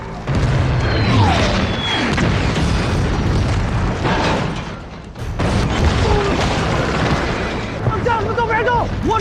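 Aerial bombing strikes a marching column of Chinese volunteer soldiers in a war film, with heavy booming blasts and rumbling debris filling the scene as shouting voices break through.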